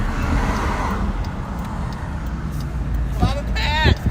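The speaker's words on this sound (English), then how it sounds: "Are there some cars going by or something?" Road traffic passes steadily near a sheriff's patrol scene, a low broad rumble of cars swelling and fading, with people talking briefly near the end.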